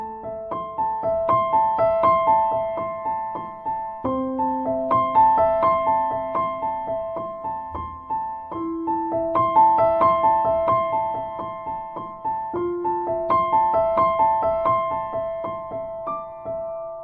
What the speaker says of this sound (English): And when you play it with feeling and with the pedal, it sounds like this.